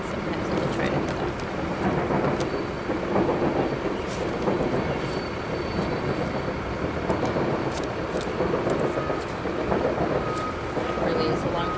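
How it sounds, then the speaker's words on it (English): A long train rolls past steadily and continuously for the whole stretch, with a dense rumble and faint clickety-clack of railcars, close and fairly loud. "It really is a long train."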